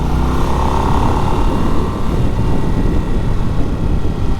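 A 2024 Harley-Davidson Nightster motorcycle engine drones loud and close while riding in third gear, a steady, gritty rumble with no pause and no talk over it.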